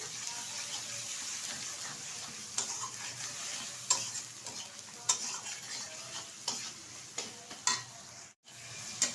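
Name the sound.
spices with cumin and salt being stir-fried for omelette curry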